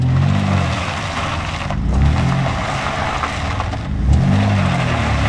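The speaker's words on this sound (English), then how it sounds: "The vehicle is moving, but the back wheels are not." A van moves while its back wheels do not turn, giving a loud close rumbling engine and drive noise with dragging, shifting tones that surge and dip over several seconds.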